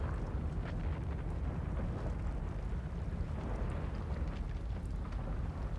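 Tsunami wave in the city-building game Cities: Skylines, a steady, loud low rumble and roar of rushing water with a wind-like hiss, continuous throughout with no voices.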